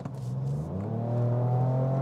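A 2023 Ford Ranger Raptor's exhaust revs loud and close, a steady deep drone climbing in pitch as the engine builds, with no talk over it.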